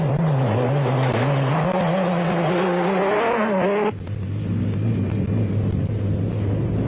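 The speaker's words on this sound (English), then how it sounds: "the Nissan hardbody hadn't missed a beat throughout the event" A Nissan Hardbody off-road race truck at the 2002 Sugarbelt Off Road Race in South Africa drives past loudly, its engine note climbing through revs before dropping into a steady, lower drone.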